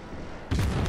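Incoming shells striking a cruiser in World of Warships, a low rumble followed by a sudden loud booming impact halfway through, heavy and close.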